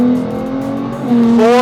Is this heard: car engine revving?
yes